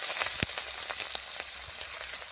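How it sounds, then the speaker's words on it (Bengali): Shrimp frying in oil in a pan, a soft continuous sizzle dotted with brief crackles and pops, quiet and close with no voices. "এবার চিংড়ি মাছটা ভেজে নেবো ভালো করে"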